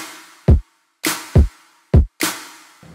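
An EDM drum loop built in music production software, with a punchy kick, clap and snap in a sparse repeating pattern of four tight hits over about three seconds, each hit loud and dry.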